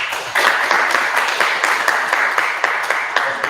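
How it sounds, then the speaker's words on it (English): An audience at a community event applauds its sponsors, a brief, steady round of many hands clapping at moderate distance, with no talk over it. "So a big round of applause to all the sponsors."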